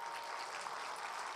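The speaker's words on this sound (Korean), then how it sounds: "박수 한번 치려면 크게 한번 치시고." Congregation applauding during a Sunday afternoon church Bible lecture, a steady dense wash of many hands clapping that fills the whole short stretch evenly, with no voices over it.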